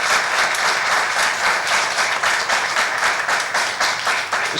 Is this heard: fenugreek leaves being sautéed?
no